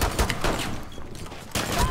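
Dense bursts of rapid gunfire in the video game Rainbow Six Siege crackle through the whole stretch, dipping briefly in the middle before a loud volley returns.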